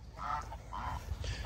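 Several geese honk close by in a farmyard while being herded, a few short nasal calls in quick succession over low background rumble.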